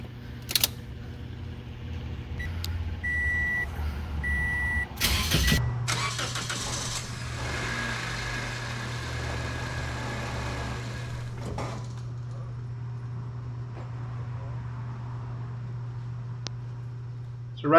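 An engine with Purple Power detergent in its crankcase cranks briefly with a clattering starter whine, fires up and settles into a steady low idle that hums on alone for the rest of the stretch.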